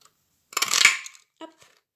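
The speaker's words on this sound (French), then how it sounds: "je vais utiliser pour la découpe ma petite perforatrice préférée. Et je vais le découper" A small paper punch cuts through card for a stencil, a sharp metallic crunch lasting about half a second, then a brief lighter click; close and alone in quiet surroundings.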